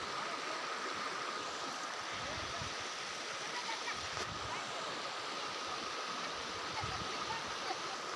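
Overflowing water rushes from Bagad dam in a loud, constant roar close by, with occasional faint voices under the flow.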